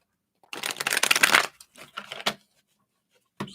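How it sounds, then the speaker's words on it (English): Tarot cards being shuffled by hand, a dense riffling burst followed by a few shorter shuffles and a final soft tap, close and alone. "let me just shuffle them this way."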